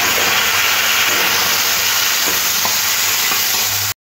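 Chopped onion and tomato fry in a pan, giving a steady, close crackling sizzle that holds at an even level throughout, with a low hum underneath.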